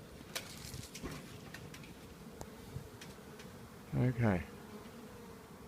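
Honey bees swarm around a wild hive in a tree in Perth, Western Australia, their faint steady buzz running throughout with a few small clicks, and a short voice near the end.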